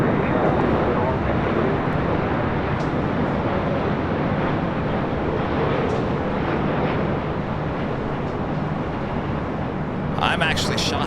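An Airbus A380 jet departing from LAX, a loud continuous broadband engine roar that fills the whole stretch with steady intensity, with some wind buffeting on the microphone.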